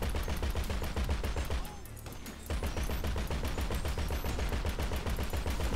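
Rapid automatic gunfire from a shooting fight in GTA V Online, dense evenly spaced bursts firing almost continuously, briefly pausing then resuming, loud and close without talk.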